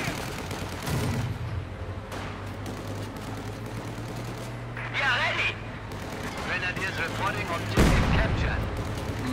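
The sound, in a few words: mortar fire in video game Company of Heroes 2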